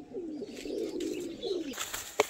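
A Madrasi pigeon, a double-barred type, coos in one long, low, wavering call lasting about two seconds, close and clear, with a brief rustle or flutter at the end.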